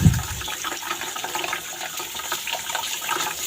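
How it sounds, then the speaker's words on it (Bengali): Cold water pouring from a tap over boiled pasta in a strainer basket, a steady rushing splash after a brief knock at the start, close and moderately loud. "আমি এই ঝুড়িটা একটু ঠান্ডা জল দিয়ে দিই"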